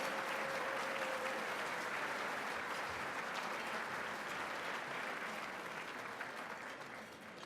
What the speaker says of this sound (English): Let's give our WRA supporters a big round of applause